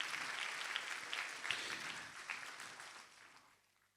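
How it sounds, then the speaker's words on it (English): An audience gives a round of applause for a guest of honor, dense steady clapping that is fairly faint and tapers off toward the end. "A big round of applause for our guest of honor"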